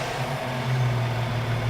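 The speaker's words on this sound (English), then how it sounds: "I'm just gonna give it some gas a couple times here" A Jeep Liberty fitted with a high-output 200-amp alternator idles low and then gets a short rev, a deep steady engine hum that swells briefly and settles, fairly quiet and close.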